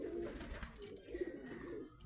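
A pigeon recovering from leg paralysis gives soft, low cooing in a short, close run, with faint background noise.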